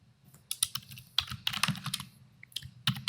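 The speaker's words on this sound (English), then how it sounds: "I can actually start typing here in the code." Rapid, irregular keystrokes on a computer keyboard as SQL code is typed, close and fairly quiet, clattering in uneven bursts with short pauses and no speech.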